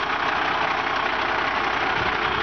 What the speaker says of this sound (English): it's a nice dry engine, and she just purrs